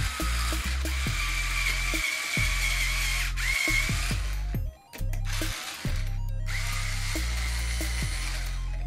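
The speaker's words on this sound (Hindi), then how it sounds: "इन्हें भी आप प्रॉपरली वापस अपनी जगह पे फिक्स कर सकते हो इस स्क्रू ड्राइवर की हेल्प से" A cordless electric screwdriver removes screws, a close whirring motor running in several long spins with short pauses and clicks between them.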